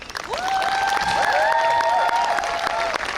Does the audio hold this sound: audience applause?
yes